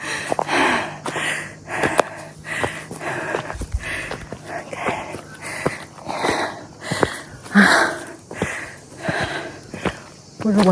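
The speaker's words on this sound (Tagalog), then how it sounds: "Hingal is real." Heavy, rhythmic panting breaths from a hiker climbing a wild uphill trail on Monte Stagno above Lake Suviana, close to the mic, with footsteps and occasional speech mixed in.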